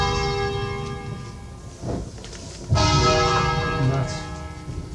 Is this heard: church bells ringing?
yes